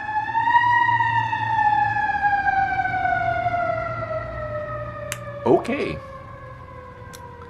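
A fire department truck's siren sweeps past in a steady descending wail that fades as it moves away, with horn blasts behind a brief spoken word.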